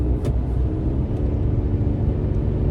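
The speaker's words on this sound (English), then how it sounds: "My truck won't go in overdrive now." Steady low rumble of a pickup truck cruising along the road, heard from inside the cab, with constant engine and road noise and no talking.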